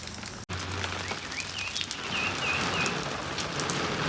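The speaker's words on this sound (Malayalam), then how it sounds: "അയ്യോ, എന്തൊരു മഴ!" Heavy rain pouring steadily, a dense close hiss that fills the scene after a brief cut, with a few faint bird calls behind it.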